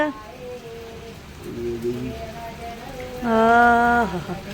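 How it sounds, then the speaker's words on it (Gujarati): Steady all-night rain in Siddhpur hisses in the background while voices and tonal sounds rise over it, growing louder near the end. "વરસાદ આખી રાતનો ચાલુ"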